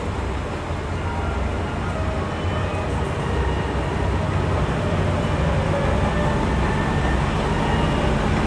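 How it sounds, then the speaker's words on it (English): A train arrives at the platform of a Japanese railway station, a steady low rumble and rolling noise that stays even and continuous for the whole stretch. "1番乗り場に当駅止まりの列車が到着いたします。"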